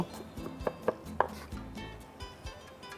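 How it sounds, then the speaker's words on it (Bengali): A knife finely chops onion on a cutting board, a rapid run of close, soft knocks and taps, uneven but quick, with no voices. "পেঁয়াজটাকেও আমরা ফাইন চপ করব।"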